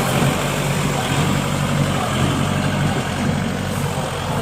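A heavy Kubota tractor engine idling steadily with a constant low rumble and broadband mechanical noise, close and loud throughout, powering a hay baler.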